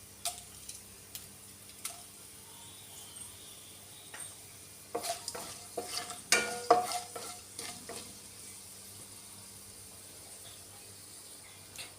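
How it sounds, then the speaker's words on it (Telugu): Mustard seeds and other tempering spices with torn dried red chillies crackle and sizzle in hot oil, a soft steady fry broken by a busier burst of sharp pops and stirring clinks near the middle. "మంచిగా ఈ పోపు దినుసులు మంచిగా ఇలా వేగాక"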